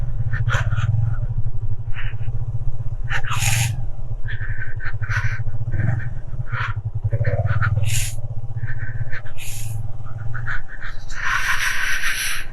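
A Bajaj Avenger motorcycle ridden off-road on a rough track near a lake, its engine drone steady and close throughout, with intermittent rattles, clunks and knocks from the bumpy ground, no talking.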